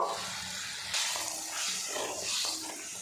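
Running water splashes into and around a container being rinsed of leftover lentil paste in a kitchen, a close, brief gush with uneven splashing bursts.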